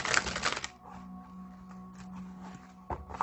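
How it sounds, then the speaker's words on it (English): Tarot cards shuffled by hand in quick papery riffling bursts, one at the start and another at the end, with a quieter steady hum in between and no talking. "while I'm shuffling"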